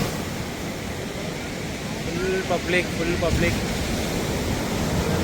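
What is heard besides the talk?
sea waves at sunset on a Kerala beach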